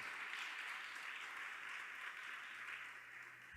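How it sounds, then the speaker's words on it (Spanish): A church congregation at an evangelistic Spanish-language service claps for the Lord, a steady, even wash of applause from many hands that is faint and distant throughout. "Yo quiero que le eleve un fuerte palmas al Señor"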